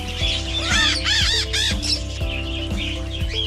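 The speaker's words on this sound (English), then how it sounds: "Red-tailed black cockatoos." Red-tailed black cockatoos call in a loud, harsh series of rising, arching squawks, several overlapping cries close by over a low steady background hum.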